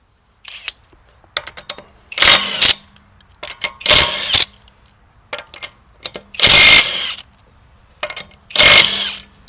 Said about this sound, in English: we're now going to lift the vehicle up and pull off the back tires